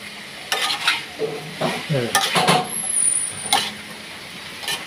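Bamboo shoots seasoned with salt and turmeric are stirred in a frying pan, giving bursts of close scraping and clattering over a soft, constant sizzle.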